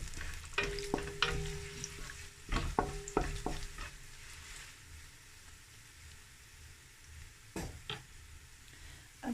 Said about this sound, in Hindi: हम इसको ब्राउन कर रहे हैं।